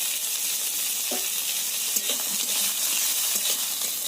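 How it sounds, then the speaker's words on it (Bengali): Pointed gourd pieces with salt and turmeric fry in oil with a loud, continuous sizzle and a few soft knocks of stirring; no talking. "পটলগুলো খুব ভালো করে ভেজে নেব"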